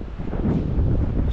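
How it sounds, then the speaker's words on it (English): Constant wind blows outdoors by a West Virginia trout stream, a steady, loud rumbling buffet across the microphone with no break. "It's like a constant wind. It won't stop blowing."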